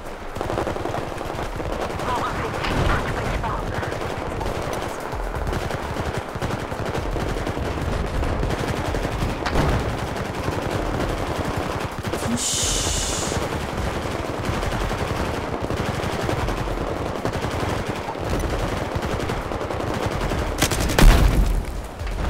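Sustained gunfire from the shooter game Battlefield 4, dense automatic bursts and booms rolling continuously through a loud battle scene, with a heavier blast near the end.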